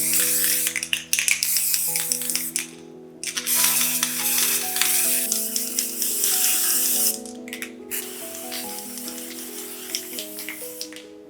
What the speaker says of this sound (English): Spray the cake with the white velvet spray.